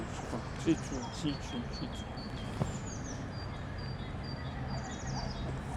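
Thin, high great tit calls repeat faintly in the distance, two birds answering each other, over a low background hum, with a few soft knocks nearby.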